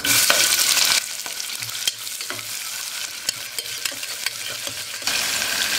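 Sliced onions hit hot oil seasoned with cloves, cinnamon and fennel in a cooker pan for a vegetable kurma, giving a loud sizzle that settles into steady frying with scrapes of stirring, then swells again near the end.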